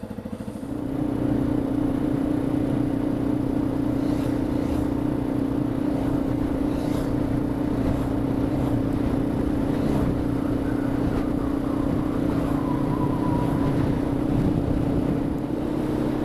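A small 250 XT motorcycle cruises on a solo ride through Morocco toward the High Atlas Mountains, its engine droning steadily and close by, with wind buffeting the microphone and pitch shifting only slightly as speed changes.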